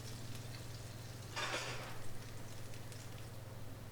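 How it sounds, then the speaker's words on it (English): Dried mint fries in the same pan used for the meatballs, giving a soft, faint sizzle with a brief louder burst of crackle partway through. "I'm frying some dried mint"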